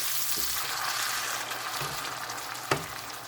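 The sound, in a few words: tinned tomatoes being mixed into frying ground beef in a pan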